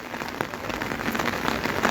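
Heavy monsoon rain falls on surfaces in Shimla, Himachal Pradesh, during an orange weather alert, a dense continuous patter of close raindrops with no voices over it.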